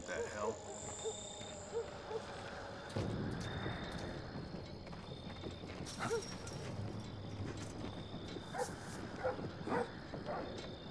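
A dog barking in the Splinter Cell Blacklist video game, short yips and barks scattered over a busy game ambience, with a person talking at times.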